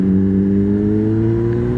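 Honda CBR 600 RR sport motorcycle engine running at high revs, a loud steady droning whine held close and constant throughout with no talk.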